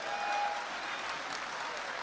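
Audience applause at an Urdu mushaira and kavi sammelan poetry gathering in Dubai, a steady wash of clapping from a large crowd held at an even, moderate level for about two seconds, with no speech over it.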